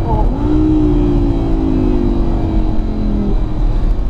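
An Audi R8 V10 Spider engine revs while driving, a loud close whine that rises and holds with a smooth, steady drone for a few seconds before easing off.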